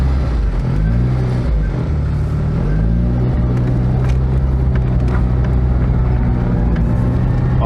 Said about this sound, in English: I love the exhaust note on a Mini